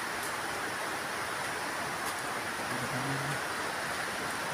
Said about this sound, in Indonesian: terlalu deras hujan, jadi pada bocor gitu ya, dari talang-talang itu